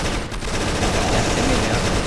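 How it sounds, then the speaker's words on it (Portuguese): A machine gun in CrossFire zombie mode fires continuously in a loud, unbroken stream of rapid shots, filling the short stretch with dense gunfire and no pauses. "Mano, essa arma é muito show, olha só."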